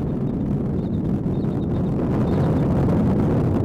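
An Atlas V rocket engine roars steadily during launch, a dense, continuous low rumble with wind-like buffeting, heard from a distance at constant loudness without breaks.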